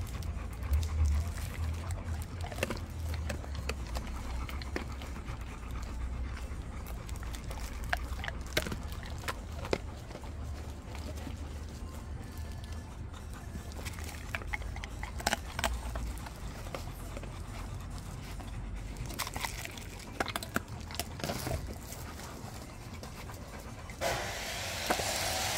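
Several dogs pant steadily and chew kibble treats up close, with soft crunching, licking and shuffling throughout, while a person murmurs quietly now and then.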